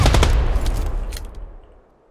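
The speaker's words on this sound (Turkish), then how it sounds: "Oğlum sen adamı vuruyorsun, adam bana vuruyor." A rapid burst of automatic gunfire rattles loudly in the PUBG battle royale game, the shots running together before trailing off into a fading echo.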